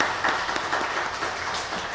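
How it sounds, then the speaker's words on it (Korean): A church congregation claps briefly during a Sunday service, a soft, even patter of many hands heard from a moderate distance. "우리 하나님께 영광의 박수 하겠습니다."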